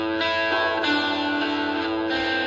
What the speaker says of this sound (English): And that was the guitar starting.